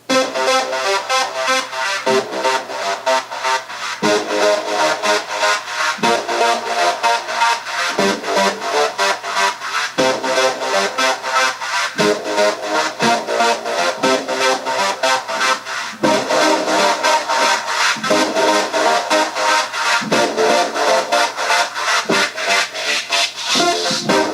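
Dense electronic synth tones from a Mux Modular software synthesizer pulse steadily with rhythmic gaps, bright and full-bodied, playing alone without speech.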